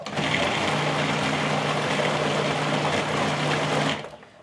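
An electric mixer whirs steadily as it blends cream cheese for a smoked cheesecake, a continuous motor hum with a faint churning texture that runs for about four seconds and then stops.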